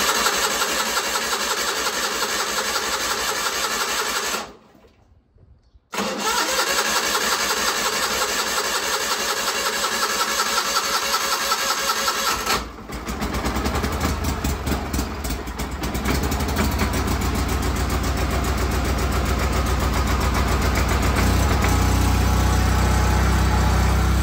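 Wheel Horse 520-H garden tractor engine cranks, falls silent for a moment, then catches and settles into a steady, loud idle that continues to the end.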